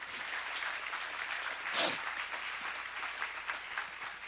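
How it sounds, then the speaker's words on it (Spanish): A church congregation claps during a pastor's sermon, a continuous wash of mid-distance applause with a brief louder swell partway through. "O dale un aplauso a Dios por eso."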